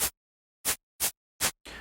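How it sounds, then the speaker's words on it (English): Programmed shakers in a laid-back West Coast halftime beat: four short, bright hissing shakes spaced at uneven intervals, closing on a longer sustained shake, loud and alone. "And then finally, we've got our shakers,"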